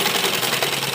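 A sewing machine runs in a steady, close whirring burst, stitching the lining seam of an embroidered suit down to the waist.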